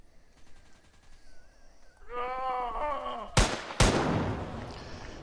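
Gunfire in an Unreal Engine 4 zombie shooter, two sharp loud shots cracking out after a moaning zombie groan, over a low game background.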